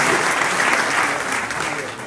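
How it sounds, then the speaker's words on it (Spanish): Strong, dense applause from an audience at a regional museum's 30th anniversary recognition, loud and sustained with a faint voice underneath. "Fuerte el aplauso del reconocimiento de Castillo"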